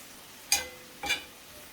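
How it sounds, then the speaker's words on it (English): Two brief stirring scrapes in a pot of food for spaghetti with garlic cheese bread, each a quick soft swish with light sizzle, spaced about half a second apart and otherwise quiet. "let's give these a little stir"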